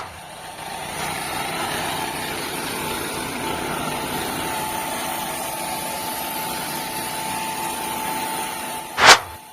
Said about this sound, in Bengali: মাত্র 100 টাকা তেল খরচ করে 3 থেকে 4 বিঘা জমি ধান গাছ কাটুন এই মেশিন